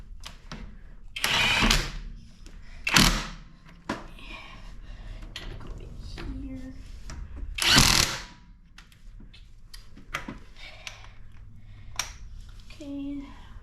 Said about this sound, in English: Now we're going to put the lug nuts back on the tire with our 1/2-inch impact wrench